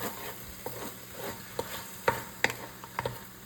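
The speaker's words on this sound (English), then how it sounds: "I'm just gonna let this fry down some" Food frying in a pan, a continuous close sizzle with small scattered pops and faint stirring clicks throughout, no voices.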